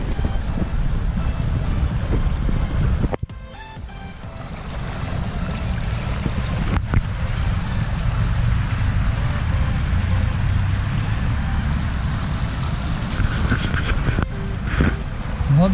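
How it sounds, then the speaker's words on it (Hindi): A flowing water stream near Mussoorie rushes steadily and loudly close by, a continuous broadband wash broken by a couple of sharp knocks, with no talk. "पानी की आवाज़ सुनना, मैं कुछ बोलूँगा नहीं, आप लोग सिर्फ पानी की आवाज़ सुनो।"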